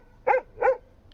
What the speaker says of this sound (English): as the dog started barking.